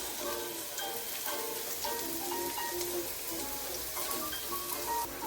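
Minced garlic frying in a pan for Jamaican curry shrimp, a steady close sizzle and crackle that continues evenly without talk.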